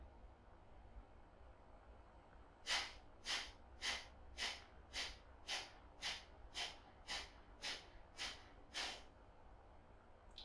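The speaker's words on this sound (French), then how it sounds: "Donc c'est des respirations assez rapides." Ten quick, forceful breaths in a steady rhythm during a hatha yoga breathing exercise, each a sharp nasal burst close to the microphone, evenly spaced after a short quiet lead-in.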